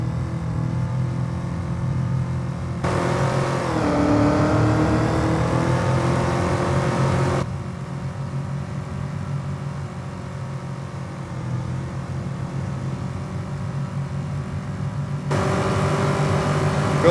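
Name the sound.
car engine revving in Farming Simulator 25 video game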